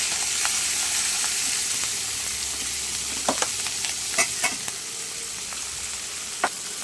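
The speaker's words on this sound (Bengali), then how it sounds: "এবার আমি এই যে চিংড়ি মাছগুলো ভেজে নেব।" Prawns fry in a pan with a steady, close sizzle and hiss, broken by a few sharp clicks of stirring, with no voices.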